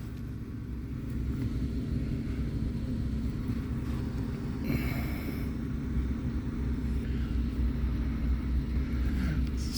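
A Chrysler's blower motor runs as a steady, even low rumbling whir with a constant airy hiss, holding level throughout with no voices.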